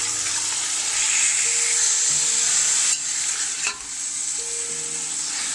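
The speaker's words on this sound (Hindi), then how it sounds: "अब इसको हम 10 मिनट तक फ्राई करेंगे।" Chicken fries in a pot for Pakistani chicken pulao, a loud, close, continuous sizzle with stirring noises throughout, and no one speaks.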